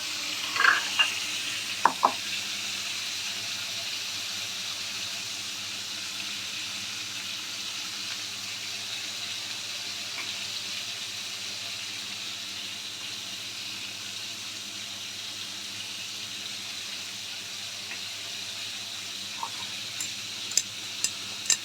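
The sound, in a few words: stirring pointed gourd (potol) frying in pan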